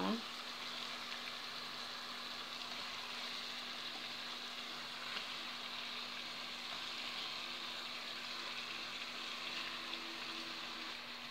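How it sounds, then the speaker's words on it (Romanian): Onions sautéing in a pan before pork ribs are added, for cabbage with ribs: a soft, even sizzle that holds steady and faint throughout without breaks. "Ceapa noastră se călește, o să adăugăm și costița."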